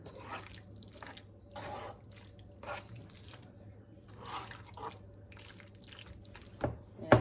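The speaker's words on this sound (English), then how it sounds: "I'm going to go ahead and drain this pasta" Cooked pasta being drained into a kitchen sink, with intermittent splashing pours and trickling water in short bursts, fairly quiet and close, ending with a few sharper clatters.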